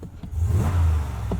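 Brief, close rev of a 2019 Ram 1500 Rebel's 5.7-liter Hemi V8 engine: a deep rumble swells and holds for about a second, with no voices.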